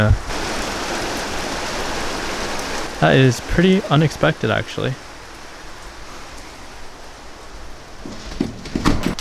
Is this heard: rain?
yes